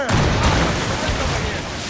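Ship cannons firing during a naval battle in Assassin's Creed Rogue, a dense, loud volley of booming blasts that runs on continuously with no pause.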